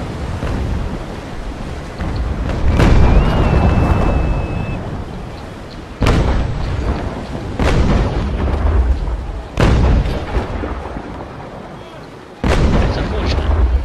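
Ship cannons firing in a naval sailing battle video game, several booming shots spaced a few seconds apart, each a sharp blast with a rolling tail over a constant rush of wind and sea.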